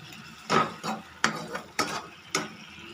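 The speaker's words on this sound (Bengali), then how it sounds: "এবার সবগুলোকে ভালো করে মিশিয়ে নেব।" A spoon works through vegetables with vinegar, soy sauce and tomato ketchup in a pan for a restaurant-style catla fish dish, making four evenly spaced scraping, clinking stirs against the pan.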